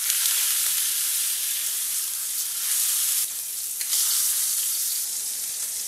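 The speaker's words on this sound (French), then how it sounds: "Une fois que l'huile est bien chaude, je vais déposer carré d'agneau à la dedans." Rack of lamb sizzling loudly in hot oil in a pan, a steady close hiss and crackle that holds for several seconds with brief dips, and no voices.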